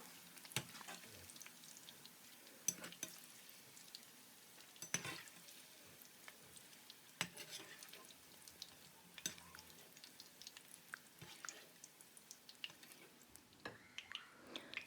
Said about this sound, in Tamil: இது வந்து ஃப்ரை ஆகிக்கிட்டு இருக்குது. நல்லா டீப் ஃப்ரை பண்ணணும்.